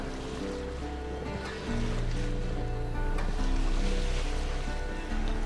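Steady rushing water and a low engine drone from a boat moving across the surface in The Witcher 3: Wild Hunt video game, with splashing waves throughout.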